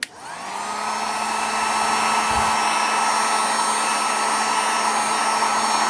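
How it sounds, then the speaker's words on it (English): A heat gun starts up and blows with a steady, loud whooshing whir as it melts the top of a tallow candle, running alone without talk. "So I'm gonna take my heat gun,"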